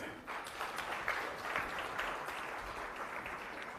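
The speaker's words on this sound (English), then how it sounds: "Another round of applause" An audience at a youth and electoral conference gives a round of applause, a faint, distant patter of clapping that stays even for a few seconds with no voices over it.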